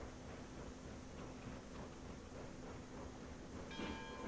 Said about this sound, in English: Actually can hear the train,